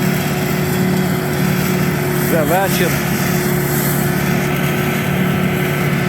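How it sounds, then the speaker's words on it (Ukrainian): A combine harvester threshing soybeans drones steadily at close distance, with a brief spoken phrase heard over it. "Молотимо сою."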